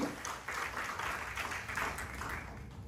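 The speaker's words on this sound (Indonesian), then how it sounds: "Beri tepuk tangan yang meriah-meriah lagi." Church congregation applauding together, a steady wash of many hands clapping that holds through the whole stretch with slight swells, moderately loud and roomy.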